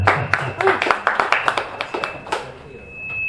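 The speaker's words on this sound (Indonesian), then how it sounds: "Tepuk tangan untuk yang membaca." A small audience at a literary poetry reading gives a short round of scattered hand clapping, a few sharp, uneven claps that quickly taper off, close by.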